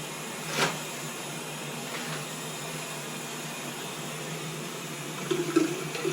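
Water is emptied and rinsed from an emesis basin into a toilet, a low steady running-water hiss with a faint splash early on and small trickling bursts near the end.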